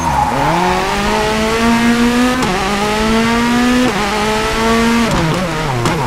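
Rally car in the WRC 4 game, a Ford GT on tarmac at Wales Rally GB, revving hard through a hairpin handbrake turn, with loud, rising engine pitch, tire squeal and gear shifts up close.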